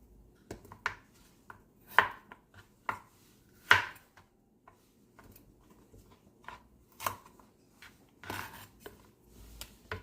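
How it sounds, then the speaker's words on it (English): Knife chopping green, yellow and red bell peppers into large diced chunks on a board, a series of crisp, irregular close taps with brief pauses between bursts, no voices. "we're going to cut the peppers in large diced size chunks"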